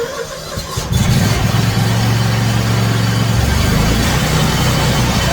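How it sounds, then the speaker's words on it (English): A lawn mower engine cranks and catches after a second, then settles into a loud, steady rumbling run close by. "fire up the mower so you can get an idea of exactly how loud it is"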